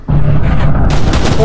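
Dual pistols fire in the first-person shooter game FEAR, a loud close burst of gunfire that fills the short moment with dense blasts and echo.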